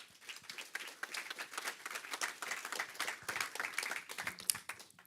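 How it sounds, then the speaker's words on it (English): A conference audience at the OpenSIPS Summit in Amsterdam applauds a sponsor, a sustained patter of many hands clapping at moderate distance before tapering off at the end. "So I want to give them a round of applause for reaching out for us as well."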